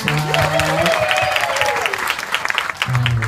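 Applause from a party audience at Urassaya's Happiness Party, a steady patter of claps mixed with voices and a held tone, fading slightly midway before a voice returns near the end.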